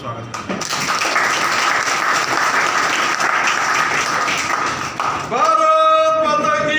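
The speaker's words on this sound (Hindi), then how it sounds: "ताली बजा के भाई साहब का स्वागत करना चाहिए" An audience at an ITI gathering in Khoda, Ghaziabad, claps to welcome a guest with sustained, dense applause, and a voice breaks in near the end over it.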